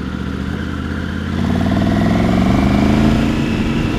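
A Triumph Tiger 900 GT Pro motorcycle hums steadily while riding in fourth gear, its engine drone rising slightly as it pulls, close and continuous with wind noise.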